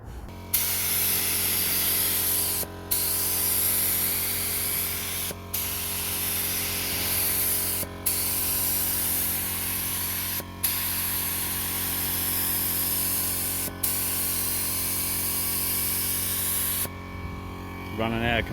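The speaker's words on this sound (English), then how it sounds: "So the black is in this gun. Gonna paint this guard." A compressor-fed spray gun lays black paint onto a car guard, a continuous loud hissing spray broken by short regular pauses every few seconds, close up, with a low hum underneath.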